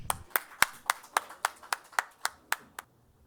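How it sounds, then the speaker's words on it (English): About a dozen separate claps at a TiE Kerala Leader Connect event as guests are welcomed to the stage, sharp and evenly spaced, clean and fairly close, then trailing off into quiet. "With a round of applause, let's invite them to our stage."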